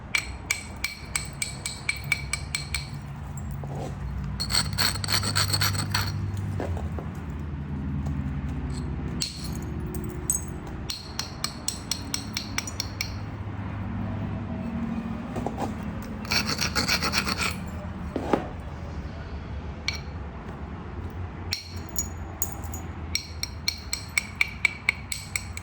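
Flint knapping a Savannah River point: a tool rubs and rasps along the stone edge to bevel it, in scratchy close strokes broken by sharp ticks and small clinks.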